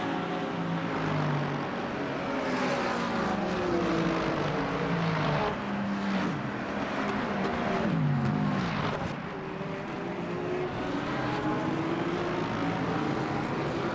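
A BMW race car in Le Mans Ultimate accelerates hard through its gears, the engine note climbing and dropping repeatedly in a loud, continuous rasp with no voices over it.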